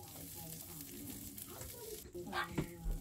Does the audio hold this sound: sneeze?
no